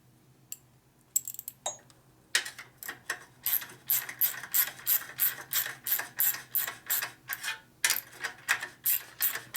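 A socket wrench ratchets on a nut during transmission repair on a Harley with an S&S 113ci Evo motor and belt drive, sounding close and sharp. After a few scattered clicks, it settles into a steady run of rhythmic ratcheting bursts.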